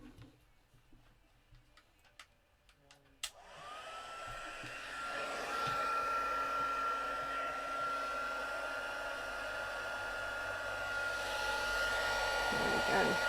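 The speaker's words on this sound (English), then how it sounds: "I'm just going to start up the heat gun and then heat this up." An embossing heat gun for melting white embossing powder on a handmade card clicks on after a few faint handling taps, then blows with a steady, close, whining hiss that keeps running to the end.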